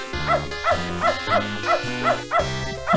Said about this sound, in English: You bark at those cats on TV.